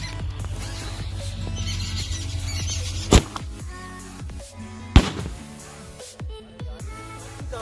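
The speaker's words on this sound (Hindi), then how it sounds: "स्काई शॉट का जो पटाखा है ना वो यार यहाँ से तकरीबन 100 फीट दूर जा करके और वहां फट गया" Diwali sky shot firecrackers whistle and burst outdoors, with two sharp loud bangs standing out over a background of hissing, squealing launches and distant crackles.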